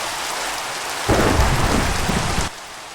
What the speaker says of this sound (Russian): Это дает нам вот такой вот обалденный прекрасный дождь.